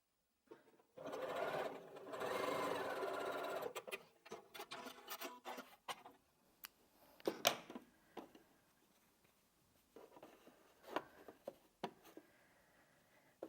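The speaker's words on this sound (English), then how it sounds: "we're just going to sew that together with a 1/4 inch seam" A domestic sewing machine stitches a 1/4 inch quilting seam on fabric, running in a steady burst then short stop-start runs with clicks and handling noises between, close and fairly quiet.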